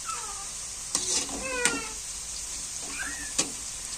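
Bitter gourd shallow-frying in oil gives a steady, faint hiss, while a cat meows several times close by over the sizzle.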